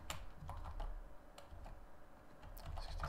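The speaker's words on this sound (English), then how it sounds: "Just type in some typical ages of people." Numbers are typed on a computer keyboard in a quiet room, giving soft, irregular clicks in short bursts with brief pauses between keystrokes and no talking.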